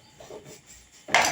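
Uncooked rice poured into a cooking pot for a one-pot pumpkin and cabbage rice dish, arriving as a short, loud clattering rush at the very end after a stretch of quiet kitchen sounds.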